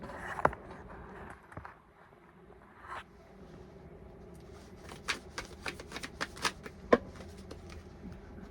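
Tarot cards handled and shuffled to draw a single card, starting with soft rustling and then moving to a quick run of crisp, close flicks and snaps near the end, with no voices.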